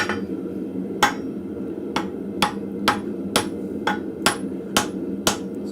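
A blacksmith's hammer strikes a drift set on an anvil, the drift a little too tall for the anvil, in a forge shop. Nine sharp metallic blows ring out at a steady, unhurried pace over low shop hum, close and clear.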